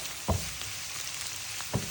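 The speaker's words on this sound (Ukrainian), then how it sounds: "Поки смажиться наша подліва" Soft, steady sizzle of vegetables frying in a pan, with a couple of brief knocks.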